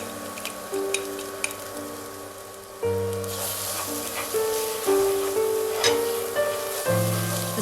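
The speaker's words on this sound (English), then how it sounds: "With the same pan, sauté the garlic and white parts of the green onion until fragrant." Garlic and the white parts of green onion sautéing in a pan, giving a steady close sizzle with occasional stirring scrapes beneath background music and no talk.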